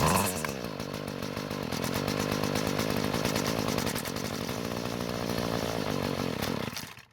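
A Bolens string trimmer's small two-stroke engine runs steadily and loudly up close, a dense buzzing drone that holds for about seven seconds before cutting off abruptly at the end, with no talking.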